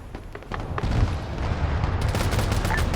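Light machine gun fire in a military shooter game rattles on as a sustained fusillade with booming reports, dense and fairly loud throughout, growing busier in the last second.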